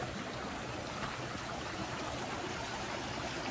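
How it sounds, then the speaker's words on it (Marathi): A small stream flowing beside the Konkan Railway line, heard as a steady broadband rush of water mixed with rolling train noise, constant and fairly loud throughout with no talking. "ओढा लागला बघा."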